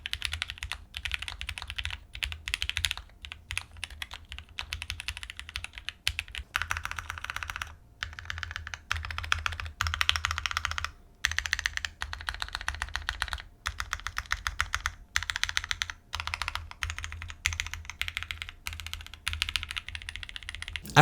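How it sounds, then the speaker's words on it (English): A mechanical keyboard with a polycarbonate plate and plate foam is typed on continuously, with rapid, fairly deep clacky keystrokes in uneven bursts and brief pauses, close and clear with no talking. "I preferred the sound with the polycarbonate plate as it gave me a slightly deeper sound and a poppy sound signature"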